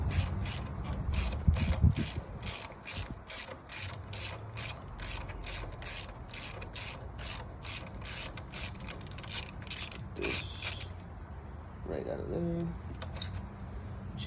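A ratchet loosens a mirror bolt on a 2018 Kawasaki Ninja Z125 Pro motorcycle, giving a long run of quick, evenly spaced metallic clicks close by that stops toward the end.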